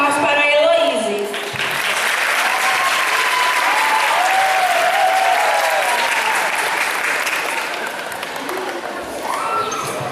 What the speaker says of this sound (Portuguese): Uma salva de palmas para a Heloíse.